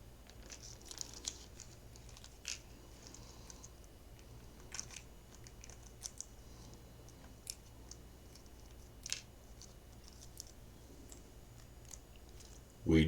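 Close, faint snipping and crinkling as plastic model kit packaging is cut open, scattered irregular clicks and rustles over a quiet room.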